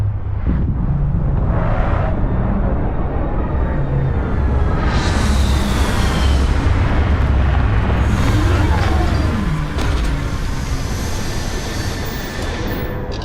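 A spaceship sets down in the video game Starfield, a continuous loud engine roar and rumble with rising and sweeping whines that swell midway, then settle and ease toward the end. No voices are heard.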